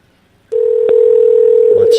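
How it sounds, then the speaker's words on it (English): A phone ringtone sounds during a call, a steady electronic tone starting abruptly after a short silence and holding loud and unbroken, with a faint click partway and some noise at the end. "We're going to hear the ringtone here."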